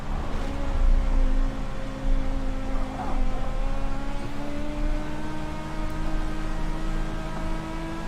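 A dirt race car in a racing video game set at Volusia Speedway Park drones steadily at close range. The engine tone holds level with slight pitch shifts over continuous road noise, and no one talks.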